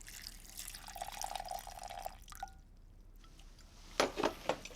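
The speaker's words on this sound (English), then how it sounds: "a generous splosh of water." Water poured into a pan of torn dates and cinnamon trickles and splashes quietly at first, then a few louder splashes land in quick succession near the end.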